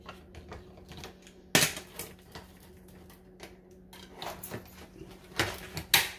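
A can of food being opened by hand with a can opener: scattered metallic clicks, scrapes and sharp clanks in uneven bursts, fairly close in a quiet room.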